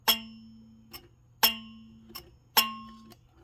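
A three-reed harmonium, its buzzing keys just repaired, sounds three separate bright notes, each with a sharp onset and a steady tone that fades out, one roughly every second and a half, plus faint clicks between them.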